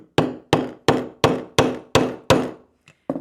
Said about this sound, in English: with the hammer, we're going to hammer it flat